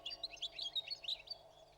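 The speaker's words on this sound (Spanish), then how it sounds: "Este silencio, coronado por el viento, solo se ve roto por el infinito piar, siempre nuevo, de los pájaros que anidan y que se cobijan entre sus ramas" Small birds nesting in juniper trees chirp and tweet in a continuous, bright twittering chorus, fairly faint and distant over a soft wind hush in open countryside.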